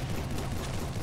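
A Gatling gun firing in a Call of Duty-style American Civil War game, a loud, dense, continuous rattle of rapid shots with no gaps and no speech.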